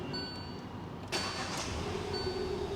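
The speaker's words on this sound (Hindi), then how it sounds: "स्टार्टिंग भी गाड़ी की दिखाती है जी, देखो कार स्टार्ट कैसे हो रही है।" A used car engine cranks and starts about a second in, with a sharp burst as it catches before settling into a steady idle, heard close and alone.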